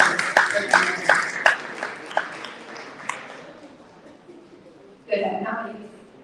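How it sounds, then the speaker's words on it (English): An audience at a global summit on sustainable futures for women claps in a round of applause, sharp individual claps that thin out and fade, then a short burst of cheering or voices near the end. "So another round of applause"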